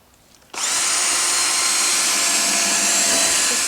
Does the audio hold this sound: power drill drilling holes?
yes